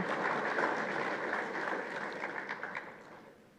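A round of applause from the audience at a ceremony distributing medical equipment, steady clapping from a moderate crowd heard at a distance, easing off toward the end.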